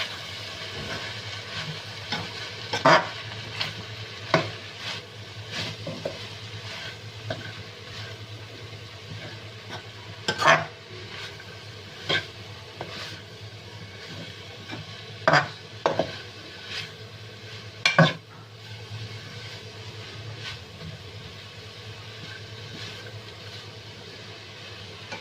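Capsicum being stir-mixed in a pan for chow mein, with a steady hiss of cooking under scattered sharp clinks and scrapes of the utensil against the pan.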